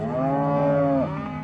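Cattle in the Monaro region of Australia: a single loud, close moo, drawn out and sliding downward before it breaks off.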